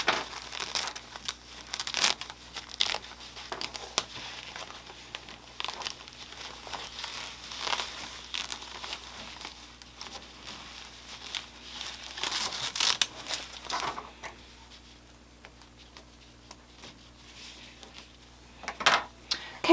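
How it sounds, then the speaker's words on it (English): Tearaway embroidery stabilizer and a topper being pulled away from finished machine embroidery: close, dry crinkling and ripping in irregular bursts with short pauses, steady and fairly quiet, no talking. "since this is Tearaway stabilizer, all I have to do is pull it away."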